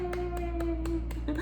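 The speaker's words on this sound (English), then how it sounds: "Let's clap for Marilyn Monroe" A few hands clapping in a slow, even rhythm, five or six distinct claps over a steady low hum, close and moderately loud.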